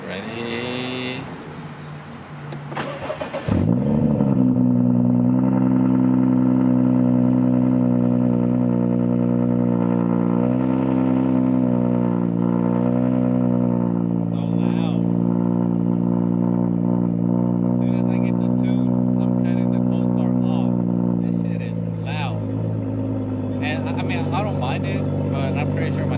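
A BMW F30 engine cranks and fires after a spark plug change, then settles into a loud, steady idle that runs on for over twenty seconds and hums with a slight unevenness.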